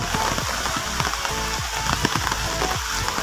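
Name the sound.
rain falling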